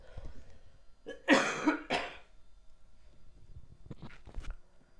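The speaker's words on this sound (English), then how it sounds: "Let me cough for a second" A person coughs twice in quick succession, close and loud, followed by a couple of softer throat-clearing coughs.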